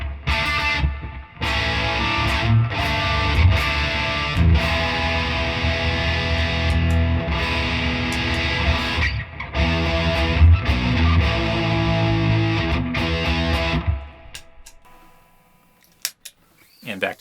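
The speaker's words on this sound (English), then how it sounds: "you can even boost that with like the Klon, and you'll get the Marshall Klon into a Marshall sound" Electric guitar played through a Klon overdrive boosting a Marshall-style amp sound, loud, dense distorted chords ringing for about fourteen seconds before cutting to quiet.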